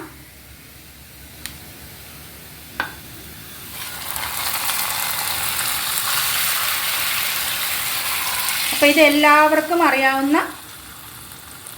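Small shallots and crushed chili dropped into hot oil in a pan for a tempering, sizzling and crackling steadily for several seconds with brief louder spurts, while someone talks over it near the end.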